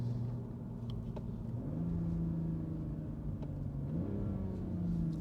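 Engine of a 2023 Toyota Supra with 340 hp, held with electronic stability control off before a launch, droning steadily with low rumble and rising in pitch twice as the revs step up; no talking.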